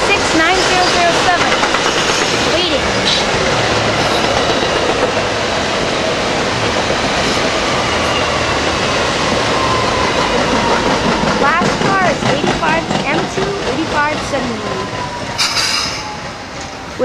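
A train rumbles past close by at Southport, coming in fast, its wheels squealing and clattering over the rails in a loud, sustained roar, with voices talking over it.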